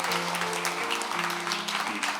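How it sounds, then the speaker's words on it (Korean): Congregation applauding in a church during a Sunday worship service, a steady dense wash of clapping with a sustained organ or keyboard tone held underneath throughout. "여러분 박수해 주시기 바랍니다."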